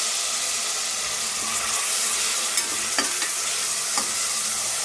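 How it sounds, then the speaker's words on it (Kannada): Tomato, turmeric and oil sizzle steadily in a pan, with a continuous hiss broken by a few scraping stirs and clinks of the spoon near the end, with no talking. "ಎಲ್ಲನೂ ಈ ಥರ ಎಣ್ಣೆಲಿ ಫ್ರೈ ಮಾಡಬೇಕು"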